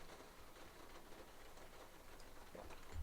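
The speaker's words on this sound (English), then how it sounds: "The rain is coming down here. If you guys hear this relaxing sound of the rain." Rain patters steadily on a skylight in a top-floor home, a soft continuous hiss throughout with no voices present.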